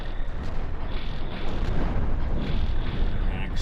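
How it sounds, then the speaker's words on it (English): Disruptor weapons fire in a Cosmoteer space battle, striking a shield generator with a dense, continuous rumble of booming impacts and bursts, loud and sustained without a break. "shield generator now is being affected by the disruptor fire"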